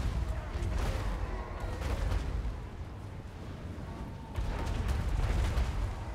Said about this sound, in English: anything that sort of advances towards us is getting murdered in a hail of gunfire